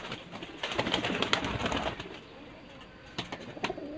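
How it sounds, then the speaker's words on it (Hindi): Rooftop fancier's pigeons cooing in short repeated bursts, fairly faint and close, with light rustling and brief flutters in between. "ये आसफ भाई के फड़कों में जो तैयार कबूतर इस दफ़ा बादियों में उड़े, फड़कों में।"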